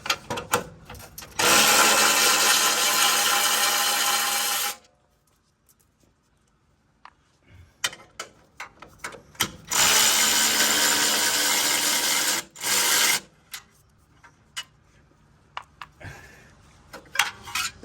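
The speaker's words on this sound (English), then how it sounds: "I'm just gonna take this heat shield off" A heat shield being unbolted from the underbody of a 5th-generation Toyota, with two long bursts of a power tool whirring near and loud, separated by quiet stretches of short metallic clicks, clanks and handling noises.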